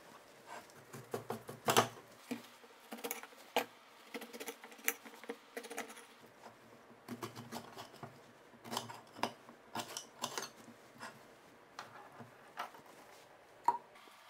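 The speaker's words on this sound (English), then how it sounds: "So now I will cut the pineapple in pieces, small pieces." A knife taps and chops repeatedly on a cutting board, cutting fresh pineapple into small pieces for homemade vinegar, in quiet, irregular close-up strikes.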